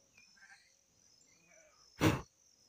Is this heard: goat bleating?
yes